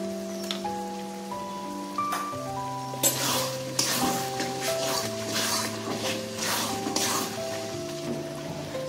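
Turmeric powder, salt and spices fry in a pan for chicken curry, giving a steady sizzle with scraping stirs throughout, under continuous background music.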